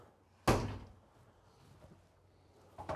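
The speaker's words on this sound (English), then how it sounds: "So I can open, this is an escape door." The egress escape door of a 2023 Newmar London Aire 4551 motorhome thuds open in one loud knock, followed by a quiet pause and a smaller clunk at the end.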